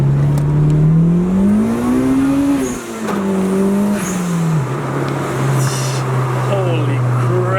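A turbocharged Honda B16B car engine revs loudly up and down through the gears, pitch rising, dipping at a shift and then climbing again, with faint high whistling from the turbo spooling. Heard close and from inside the car, with a voice under it.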